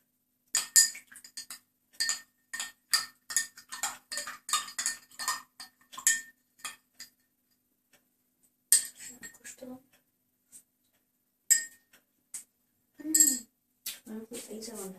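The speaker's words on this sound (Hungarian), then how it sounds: "Mindig keverjük, amíg nagyjából úgy" A spoon stirs an extra-chocolatey drink in a cup, making quick, rhythmic metallic clinks against the sides. After a pause, a few more clinks and scrapes follow, close and crisp.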